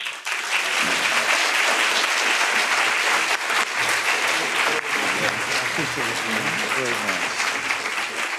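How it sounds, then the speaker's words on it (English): A Georgia Tech lecture audience applauds Andrew Gillum in a dense, steady wave of clapping that fills the hall, with a voice faintly heard beneath it. "Georgia Tech, please give a round of applause for Mr. Andrew Gillum."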